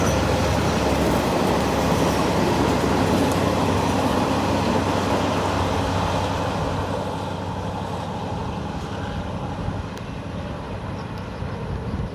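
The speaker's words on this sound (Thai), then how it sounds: "ผ่านไปแล้วนะครับสำหรับขบวน ด่วนที ่ 84 นะครับต้นทางตรังไปทางกรุงเทพนะครับ" An Alsthom 4409 diesel locomotive hauls express train 84 from Trang toward Bangkok past Nong Pladuk junction. Its heavy, continuous rumble and wheel roar is loud at first and then gradually fades as the train moves away.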